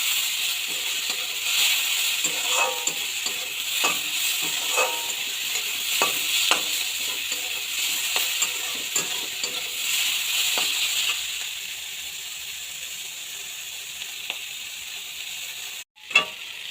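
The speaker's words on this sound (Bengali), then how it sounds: "পরিমাণ মতন লবণ রয়েছে সামান্য হলুদ দিয়ে এখন ভালোভাবে নেড়ে নিয়ে নেব" Dried fish frying with salt and turmeric, stirred in a pan: a steady close sizzle with repeated scraping strokes of the spoon, easing off toward the end before a sharp knock.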